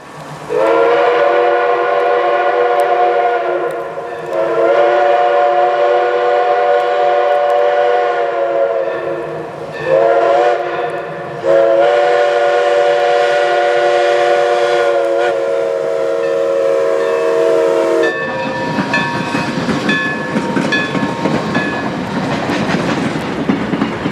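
Woodstown Central Railroad No. 9 steam engine rolls past in rural New Jersey with a loud, sustained horn chord sounding several times, wheels clattering underneath, then a rushing roar as cars pass close by.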